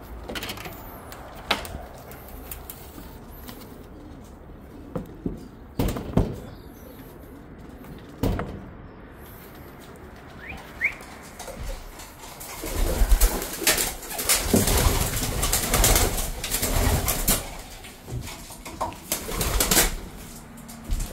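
Racing pigeons let out of a loft, with soft intermittent cooing and bursts of wing flapping and scuffling that grow busier in the second half, heard close in a quiet outdoor setting.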